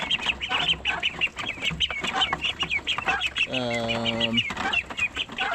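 Ducks in a backyard pen give a busy run of close, repeated quacks and clucking calls, with one longer drawn-out call partway through.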